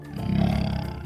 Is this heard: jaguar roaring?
yes